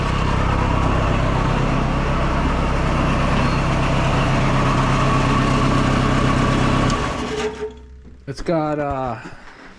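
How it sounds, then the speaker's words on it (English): A 1973 Hydro Mac with a snow bucket and dirt bucket attached idles loudly and steadily up close, then shuts off and rattles to a stop, followed by a short voice. "Here, I'm gonna shut it off quick."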